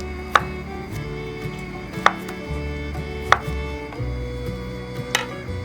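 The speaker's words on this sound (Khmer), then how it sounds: "ចាស់ខ្ញុំមានប៉ាតេចំនួន1ដុំហើយធ្វើការហាន់វា" A knife slices through a block of pâté, making four sharp, evenly spaced cuts over a low, steady kitchen hum.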